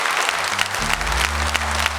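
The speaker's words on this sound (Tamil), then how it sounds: "ஒரு கைத்தட்டல் கொடுத்து நம்ம அவரை வரவேற்கிறோம்" A stage audience at a large community celebration in Houston applauds to welcome a speaker, with steady, dense clapping throughout and a faint musical drone underneath.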